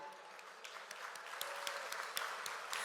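Audience applause at the 2025 East Bay Innovation Awards for the Port of Oakland, a steady patter of many clapping hands at moderate distance with faint voices underneath.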